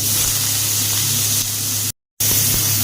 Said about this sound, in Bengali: এবার ওই কড়ার মধ্যেই আবারও তেল দিয়ে আলুগুলোকে ভেজে নিতে হবে।